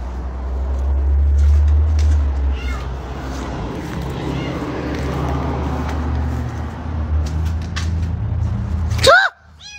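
A small cat meows several times, high and clear, over a steady low rumble like a running car engine, with a sharper close meow near the end as the noise cuts off.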